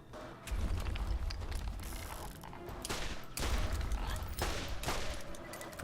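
Enemy gunfire in the video game Borderlands, with dense bursts of rapid shots and booming impacts through most of the stretch, loud and continuous with brief lulls.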